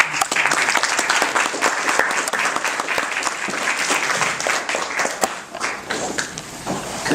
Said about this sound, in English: Could we give one more round of applause to all of our